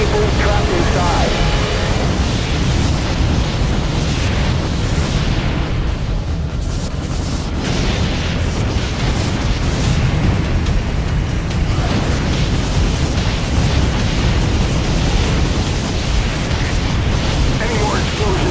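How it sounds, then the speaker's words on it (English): Continuous roaring, rumbling blasts and fiery bursts from explosions in a firefighting video game, a dense loud wall of noise with brief swells, with game dialogue faintly under the din. "Any more explosions and this tunnel might cave in."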